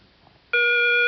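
A quiz show contestant's electronic buzzer at a high school academic challenge sounds once as a loud, steady tone that starts abruptly after a quiet moment and holds to the end.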